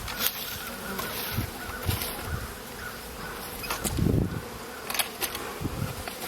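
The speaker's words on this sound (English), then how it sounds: "Watch these bees." Busy insect buzzing fills the air continuously, a dense hum of many honey bees close by during a hive inspection, with occasional soft thumps and rustles underneath.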